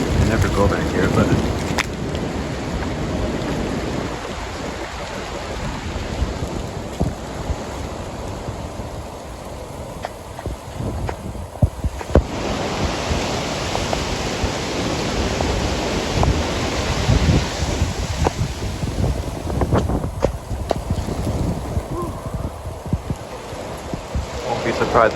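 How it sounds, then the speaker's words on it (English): Strong wind gusts roar through trees during a winter snow squall under a wind advisory, a loud, continuous broadband rush that swells and surges for the whole stretch. "I can hear the winds like through the trees."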